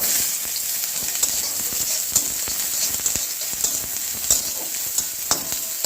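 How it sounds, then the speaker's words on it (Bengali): Chopped onion sizzles in hot oil in a wok after dried chillies, a dense steady crackle and hiss close up, with frequent sharp pops and spatters and no talk. "একটু পেঁয়াজ কুচি দিয়ে দেবো।"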